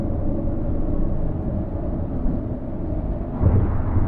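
Steady low road rumble and wind noise from a car cruising on a highway with camping accessories attached to it, a constant dull roar heard alone without speech.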